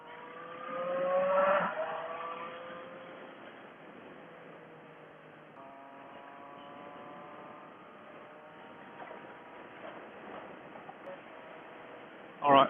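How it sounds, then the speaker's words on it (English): A motorcycle engine revs and rises in pitch while riding, heard through a helmet Bluetooth intercom with limited, narrowband quality, mostly faint under rushing wind and a speaking rider, with a louder burst near the start. "Could you hear the bike scream or not?"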